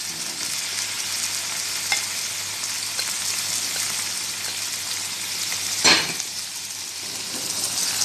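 Chicken sizzles steadily as it is stirred and fried in a pan for Filipino pancit bihon, a constant close frying hiss with one brief louder scrape of the utensil near the end.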